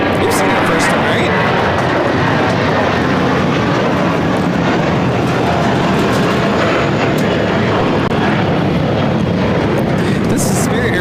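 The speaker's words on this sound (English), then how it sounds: "This is Spirit Airlines 1045 taking off to Philly on the A320." A Spirit Airlines Airbus A320 takes off from LAX, a loud, steady broadband jet roar filling the whole stretch while people talk over it.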